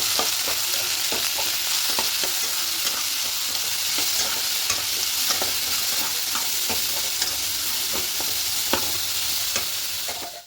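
A spiced samosa filling seasoned with turmeric, chili powder and sugar is stirred in a hot pan, giving a continuous loud sizzle with regular scraping strokes of the spoon throughout.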